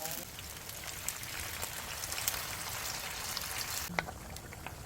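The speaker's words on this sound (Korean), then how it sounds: "이 된장을 이 기름에 먼저 된장을 볶아주면 좋아." Doenjang soybean paste frying in rendered beef brisket fat for doenjang stew, giving a continuous crackling sizzle with scattered pops that drops off sharply near the end.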